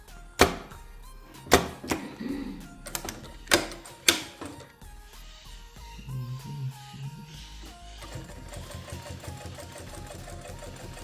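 Sewing machine stitching bias binding onto a fabric pet document holder, running in bursts of steady mechanical whirring with a few sharp clunks early on, then continuous stitching to the end, close and moderately loud with no talk.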